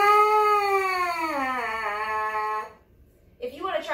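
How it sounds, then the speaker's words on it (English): Lips buzz into a brass instrument mouthpiece, making a loud, nasal tone that slides downward in pitch over a few seconds. A short rising buzz follows after a brief pause. "When you buzz into a mouthpiece,"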